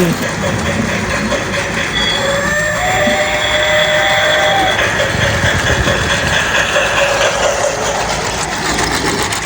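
A toy train running, a steady whirring motor hum with faint mechanical clicking, continuous and close, with people talking over it.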